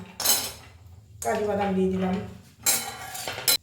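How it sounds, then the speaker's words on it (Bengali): Whole peppercorns and cashews being stirred in a pan, heard as three bursts of metal scraping and clinking against the pan with short quiet gaps between them, close and fairly loud. "এগুলো নাড়াচাড়া করতে করতে এখানে আমি কাজু বাদামগুলো দিয়ে দিলাম"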